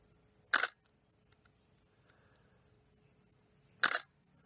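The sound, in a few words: camera shutter clicking at slowing shutter speeds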